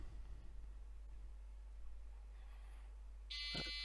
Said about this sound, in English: every 5 seconds under the warning height, you'll get an alarm